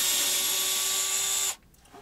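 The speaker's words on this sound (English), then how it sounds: "take these two screws off for that" A power screwdriver backs screws out of a radio bracket in a 1999–2006 BMW 3 Series, a steady high motor whine that stops abruptly, followed by a brief quiet rustle.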